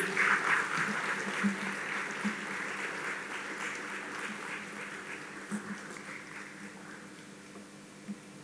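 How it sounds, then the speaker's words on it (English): A gala audience applauds for a professor after her talk, sustained clapping that gradually tapers off, with a faint murmur underneath. "A round of applause for Prof. Maja, please"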